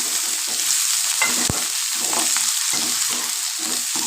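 Chopped onion and tomato sautéing in a pan for wheat rava kichadi, a steady close sizzle broken by repeated scraping strokes of a spoon stirring through the mix, with one sharp knock of utensil against pan.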